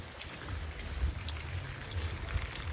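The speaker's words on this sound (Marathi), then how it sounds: "आज पाऊस जास्त आलाय" Heavy rain falls steadily during an outing up to Govind fort, a dense, even patter with low rumbling wind noise throughout and no voices.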